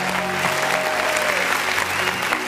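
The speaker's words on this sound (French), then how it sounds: "On va encore l'applaudir très fort s'il vous plaît." A studio audience claps loudly and steadily for a guest on a French-language show, a dense, continuous round of applause throughout.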